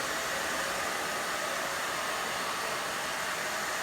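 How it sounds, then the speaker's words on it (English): A hair dryer fitted with a diffuser blows steadily at a raised setting, a loud, unbroken broadband whoosh that holds the same level throughout with no pauses. "I turned it up a little bit."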